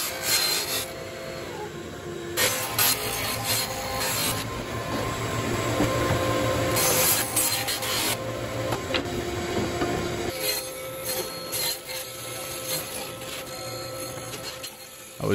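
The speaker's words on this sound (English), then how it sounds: "I just started by ripping down the big sheets of plywood into the final widths." A table saw rips large sheets of cheap plywood into widths, giving a continuous loud whine and grinding roar with shifting texture and brief changes as the sheets feed through.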